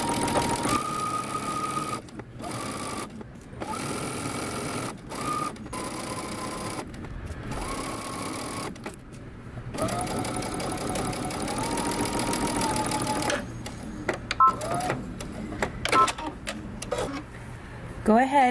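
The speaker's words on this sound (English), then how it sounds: "sew from the bottom, work our way up slightly around this curve" A sewing machine stitches a dress seam in bursts of rapid mechanical whirring, stopping and starting several times, with someone talking over and between the runs.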